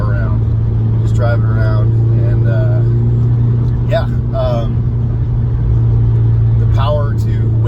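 A Mitsubishi Evo 6 cruising in fourth gear at about 3,000 RPM and 80 km/h gives a steady, loud low engine drone inside the cabin, continuous under someone talking.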